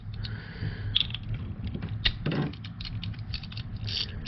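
Gearwrench impact swivel sockets click and snap onto the square drive of an old Proto ratchet, giving a few sharp, close metallic clicks and a short rattle over a quiet room hum, with no talking.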